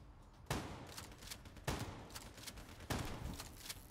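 Gunfire in the shooter game Call of Duty: Black Ops 3, with three sharp shots followed by quieter rattling bursts, heard faintly and without talk.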